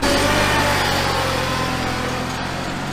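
A tractor engine drives through a harvest field, giving a loud, close, steady mechanical drone that holds constant and fades only slightly over the few seconds.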